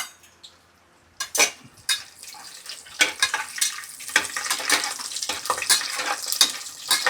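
Whole spices frying in hot oil for tomato biryani: after a quiet start, a bright crackling sizzle builds and continues, broken by metal spoon scrapes and clinks against the pot, close and steady.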